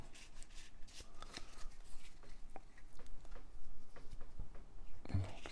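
Cards for the Massive Darkness 2 board game are handled and shuffled, with steady close riffling, flicking and soft slaps of the cards that build toward the end, and no voice over them.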